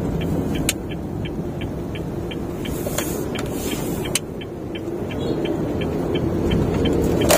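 A Honda Brio 1.2 engine hums low and steady from inside the cabin, alongside a faint regular ticking and occasional light clicks, with no talking.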